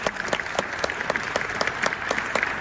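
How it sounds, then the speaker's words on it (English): Conference audience at an annual Dscoop event for HP Indigo printing users breaking into steady applause, many hands clapping in a dense continuous patter that fills the room, loud and without speech. "Round of applause."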